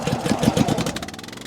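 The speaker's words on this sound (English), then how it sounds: "let me see if I can fire up the Honda and take it from there" A Honda engine on a homemade log splitter starts and runs with a rapid, uneven chugging putter that settles into a steadier idle, close by and fairly loud.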